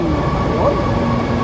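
An MRT metro station in the Philippines fills with steady train and platform rumble, carrying continuous low mechanical noise with tonal whine, while someone says a word close to the mic.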